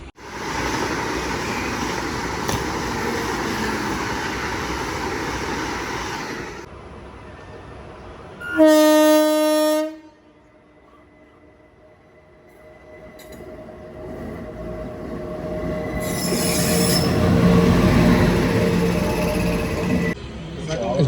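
A train on the route to Araku, near Duvvada, rumbles along and then brakes to a halt, with a sharp, high metallic wheel squeal at the stop before the noise drops to a low hum and then builds again.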